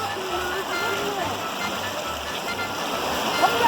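Hot spring water flowing into a river at Yellowstone, a loud, constant rushing wash of water close by that stays steady throughout.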